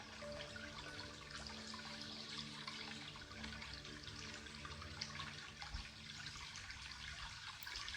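Water flows steadily behind someone in an outdoor nature setting, a soft continuous rushing wash with no talk, faint and even throughout.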